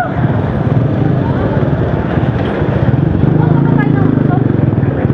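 Motorcycle engine running steadily and loudly close by during a ride, a constant pulsing drone throughout with voices talking over it.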